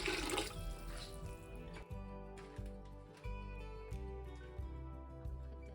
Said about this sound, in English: you add enough water to cover the cauliflower